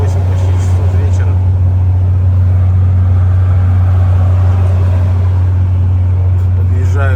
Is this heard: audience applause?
no